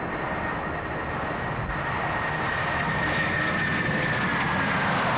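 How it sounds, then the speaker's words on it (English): A passenger airliner about to take off on a long-haul flight, heard from inside the cabin as a loud, steady engine roar with a faint high whine, continuous and unbroken. "So, that's us about to take off."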